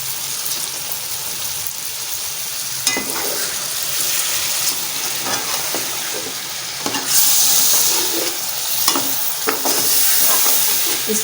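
Chopped tomatoes tumble into hot, sizzling masala for a chicken pulao and are stirred, giving a steady loud frying hiss with a brighter burst of sizzle midway and scattered spoon scrapes. No one speaks.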